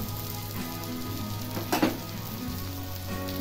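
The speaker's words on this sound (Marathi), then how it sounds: "त्याला तेल सोडायचं आहे कढईने" Oil sizzling steadily around a thalipeeth, a Maharashtrian multigrain flatbread, frying in a pan, with a brief louder crackle partway through.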